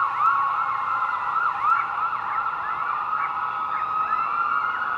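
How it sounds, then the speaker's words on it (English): A police siren howls steadily in the distance, a wavering wail holding on continuously with no other sounds on top. "trying to match the pitch of a howling police siren off in the distance"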